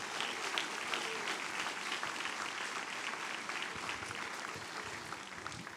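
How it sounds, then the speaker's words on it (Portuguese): A church congregation applauds strongly, a dense, even wash of many hands clapping throughout, full and sustained from start to finish. "Você vai aplaudir forte o nome de Jesus."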